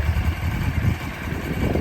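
A Honda CB400 Super Four Version R motorcycle on its standard exhaust idles quietly, a soft, low, pulsing engine rumble that ticks over evenly throughout with no voices.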